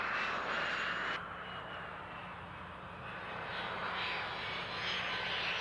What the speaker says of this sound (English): Coming in close to final, the airplane floats very nicely, can be flared, and touches down very softly.